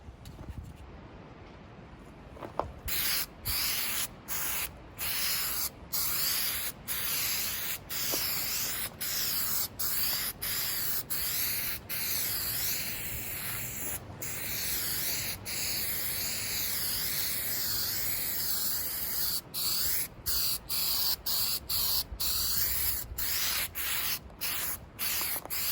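Rust-Oleum stone gray spray paint being applied to model railroad ballast: a steady hiss from a nearby aerosol can, broken by many short pauses and bursts as the nozzle is pressed and released.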